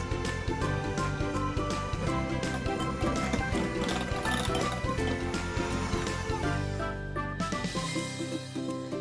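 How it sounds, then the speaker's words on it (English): An electric hand mixer whirs continuously, beating cream cheese and powdered sugar in a small bowl for a red velvet crinkle filling, with a steady mechanical hum and faint bowl rattles before stopping near the end. "In a small bowl, beat the cream cheese until creamy. Add the powdered sugar and beat until smooth."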